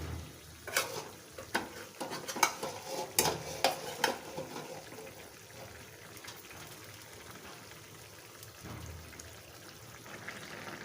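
Fried fish and vegetable stalks simmer in gravy, a soft bubbling, sizzling bed with a cluster of spoon clinks and scrapes early on, then quieter steady cooking; no talk.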